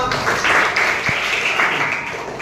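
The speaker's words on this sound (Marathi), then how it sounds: "टाळ्या वाजवा." Steady applause from a group of people, a continuous clatter of many hands clapping close by, lasting the whole moment with no voices over it.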